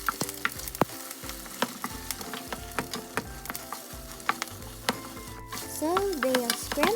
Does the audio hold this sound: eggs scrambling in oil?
yes